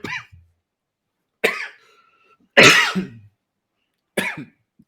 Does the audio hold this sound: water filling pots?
no